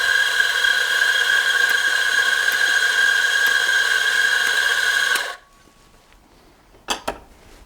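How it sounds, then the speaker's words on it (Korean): An electric coffee grinder grinds espresso into a portafilter with a loud, steady motor whine for about five seconds, then cuts off, followed by a couple of sharp knocks and clicks. "포토필터를 그라인더 거치대 위에 올려놓고 그라인딩을 해서 담겠습니다"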